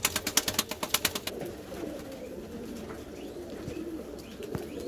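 Madrasi pigeons coo in a steady, overlapping murmur, starting with a burst of rhythmic, pulsing calls before settling into continuous low cooing at moderate distance.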